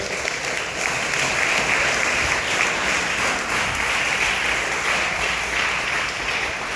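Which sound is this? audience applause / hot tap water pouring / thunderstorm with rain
audience applause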